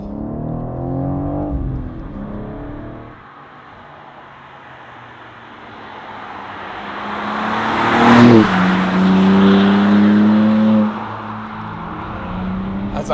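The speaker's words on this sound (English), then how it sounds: "this car retains the mighty S58 3-litre straight 6 twin turbo unit" BMW M4 G82 with the S58 3-litre twin-turbo straight six and manual gearbox, accelerating hard, the engine note climbing through revs to a loud peak, dipping with a shift, then pulling again, heard close.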